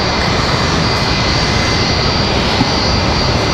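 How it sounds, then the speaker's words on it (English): A UPS Boeing 757 departs Raleigh Durham airport with a loud, close, unbroken jet-engine roar filling the whole stretch. "So another one of our UPS departures. Again, the 75,"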